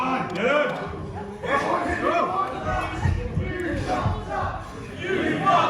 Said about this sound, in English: the crowd letting Levi Muir know that he may have made a mistake when it comes to hitting Big Wavy in the jaw